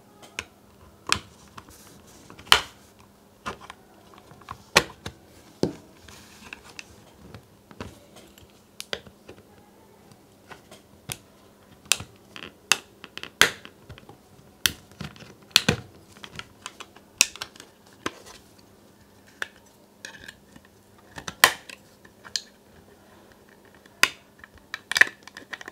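Plastic snap clips on a WD external hard drive case being pried apart with a tool, a series of sharp clicks and snaps scattered irregularly, close and fairly quiet with no talking.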